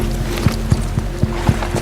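Horse hooves clip-clop in a steady, even rhythm beside a wagon, several distinct knocks over a low mechanical hum.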